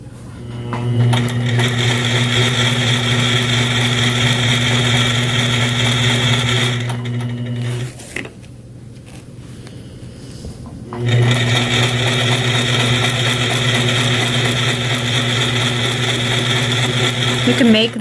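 A sewing machine stitches free-motion quilting ruler work on twisted squares, whirring loudly and steadily for several seconds, pausing briefly, then running again at the same even speed.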